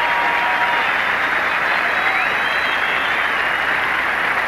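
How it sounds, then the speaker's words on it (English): A crowd at a 1984 platform diving competition applauds and cheers after a dive. The clapping and cheering form a dense, loud roar that carries steadily through the whole stretch, with no clear talk over it. "Listen to that crowd."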